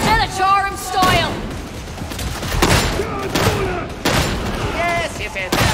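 Agripinaa Mk VII combat shotgun fired in the Warhammer 40,000 video game Darktide, a handful of heavy booming blasts spaced around a second apart amid loud combat noise, with voices talking over the shots.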